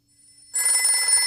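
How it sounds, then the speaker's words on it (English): A telephone bell starts ringing abruptly after a short quiet lead-in, loud and close, with a steady trilling ring that continues to the end. "The phone rings."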